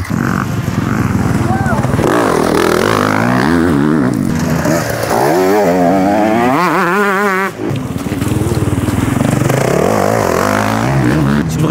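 A motorcycle circulating on a track during a riding course at Thouars, its engine roaring loud and continuous with revs climbing and falling through gear changes and corners, heard close up throughout.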